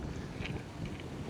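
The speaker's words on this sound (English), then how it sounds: "When it's windy like this and my rod tip is kind of doing this because of the wind" Wind gusts at the Ocean City Inlet in Maryland during tautog fishing, a steady broadband roar buffeting the microphone with no voices.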